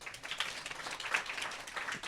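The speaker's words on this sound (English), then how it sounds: "and a round of applause" Audience applause at a family conference community meeting for the PMD Foundation, a steady broadband wash of many hands clapping at moderate, fairly distant level throughout, with no talking.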